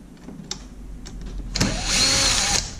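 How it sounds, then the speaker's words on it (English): A power drill works on a Kwikset keyless deadbolt during a teardown, a few faint clicks and handling knocks, then a brief whirring burst of about a second near the end. "And we'll be using a drill to make the process faster."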